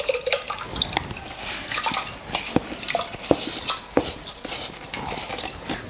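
A metal lid clatters onto a cooking pot of rice and water, with scattered clinks and taps of cookware and a faint bubbling, close by and fairly quiet, with no talking.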